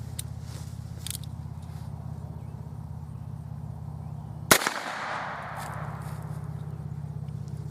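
A single loud gunshot from a Ruger Wrangler revolver fitted with a Magnum cylinder, fired outdoors, cracks sharply midway and rings out into a fading tail over a steady low background hum.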